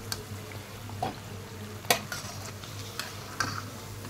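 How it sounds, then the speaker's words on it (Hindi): Potato sabudana tikki frying in very hot oil, a continuous low sizzle with a few sharp scrapes and taps at a close distance. "बाकी की टिकियाँ भी ऐसे ही फ्राई कर लेते हैं।"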